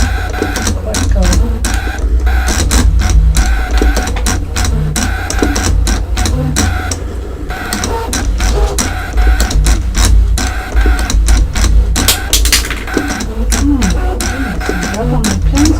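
A Brother ScanNCut cutting machine slices leaf shapes from leather, its motor giving a steady run of rapid, evenly spaced clicking and whirring pulses close by, with a person talking over it throughout.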